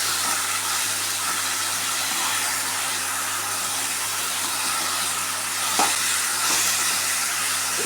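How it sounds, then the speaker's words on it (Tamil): Steady, loud sizzling of bitter gourd and onion frying in hot oil, a continuous hiss with a brief stirring clatter near the end. "ஒரு ரெண்டு நிமிஷம் எண்ணெயிலே வதங்கட்டும்"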